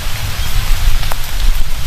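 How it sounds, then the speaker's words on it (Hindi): Heavy cartoon rain in a village storm, a dense, loud, steady hiss of downpour with no talk. "लेकिन तभी तेज बारिश शुरू हुई।"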